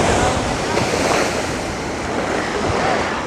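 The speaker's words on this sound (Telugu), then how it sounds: "ఈరోజు ప్రశాంతంగా ఉంది బీచ్" Sea waves washing onto a calm beach at Colombo, Sri Lanka, a continuous loud surf roar with wind buffeting the microphone throughout.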